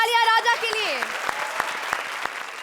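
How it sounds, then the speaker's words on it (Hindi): A television comedy show audience applauds for Raja. A voice sings briefly at the start, then sparse, evenly spaced claps ring out over a quieter background. "जोरदार तालियां राजा के लिए"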